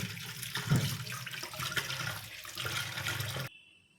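Tap water runs and splashes over pongamia (kanuga) leaves being rinsed at a sink, a steady close gush with a few sharper splashes, cutting off abruptly near the end.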